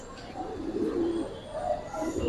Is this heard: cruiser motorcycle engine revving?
no